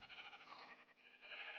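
A sheep in the Minecraft video game gives a faint, wavering bleat that fades and then swells again toward the end, quiet and distant.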